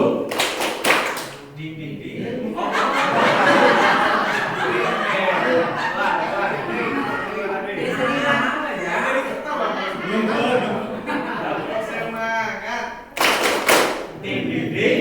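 A group at a teachers' training session performs a rhythmic spirit clap: short bursts of clapping open and close the passage, and lively group chatter and laughter fill the middle.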